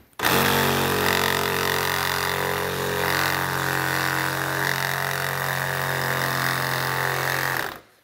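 A power tool cuts through plastic speaker cut-in template pieces for 6x9 inch speakers on motorcycle saddlebag lids, with a steady loud whining drone running continuously for about seven seconds before stopping abruptly.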